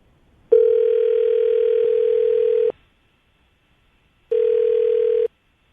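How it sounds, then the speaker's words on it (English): Telephone tones before a radio call: a loud, steady electronic tone lasting about two seconds, a short pause, then a second, shorter identical tone, clean and close with no talk. "We're going to call her right now, get her on the phone"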